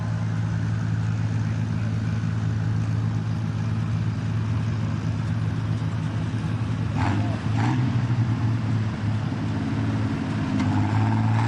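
A modified tractor in the 4000 class, the Wild Thing, idling and rumbling at a tractor pull, a loud continuous low engine drone with a couple of brief revs partway through.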